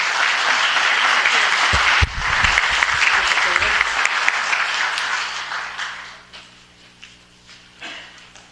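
A large audience at a city council meeting gives sustained, dense applause that fades out over several seconds, leaving quiet room tone with a few scattered claps.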